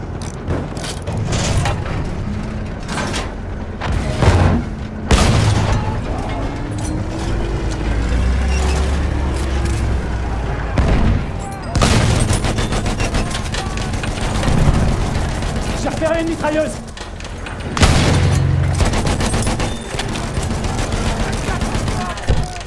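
Hostile machine gun fire in a Battlefield 1 battle at Soissons, loud bursts of rapid shots mixed with explosions, rumbling vehicles and mechanical clatter, with voices heard in the din.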